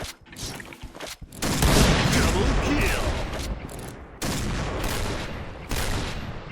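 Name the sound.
gunfire in the video game Point Blank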